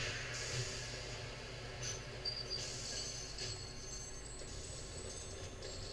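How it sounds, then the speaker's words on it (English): A train pulls in during the railway-building video game Railroads!, a soft, steady rumble with faint squealing and clicking accents that stays low and continuous, no voices over it. "Here comes the train, but it doesn't need to use it right now."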